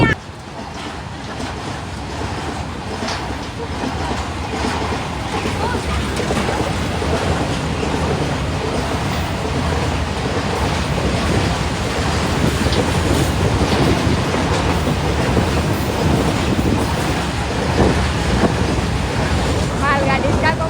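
A long freight train rumbles past with a steady rolling roar and faint rhythmic clacking of wheels on rails, growing slightly louder, while people talk nearby.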